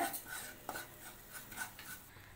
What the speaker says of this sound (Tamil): இப்போ இது எல்லாத்தையும் நல்லா கலந்து விட்டுருங்க.